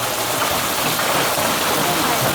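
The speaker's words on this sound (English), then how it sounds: "Hailstorm, Prague." A hailstorm in Prague pelts down as a loud, dense, unbroken roar of stones and rain striking surfaces close by.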